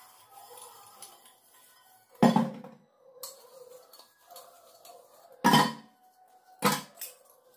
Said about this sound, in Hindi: तो बस ये सारे बर्तन धुल लेती हूँ